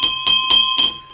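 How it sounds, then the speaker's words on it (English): A notification bell sound effect chimes four times in a quick, even rhythm, bright and ringing, with the last strike fading out. "Ring the bell, turn on all bell notifications"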